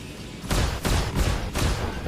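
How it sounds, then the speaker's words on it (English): Gatling cannon fire from a Vanguard spacecraft in the Star Citizen video game comes as four rapid, heavy bursts in quick succession, each a loud rattling blast over a low background hum. "Now the Gatling cannon has some serious range,"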